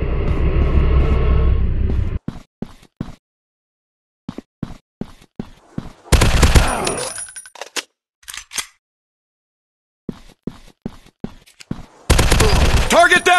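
Gunfire from a zombie shooting game set in an industrial war zone: loud bursts of automatic fire and clusters of sharp single shots, broken by short gaps and quieter clicks, with bursts returning at the end.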